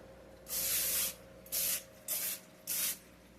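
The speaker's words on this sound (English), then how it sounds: "Now we're going to spray it." Four hissing bursts of cooking spray onto a pan, the first longest and the rest short, close and fairly loud against a quiet room with a faint hum.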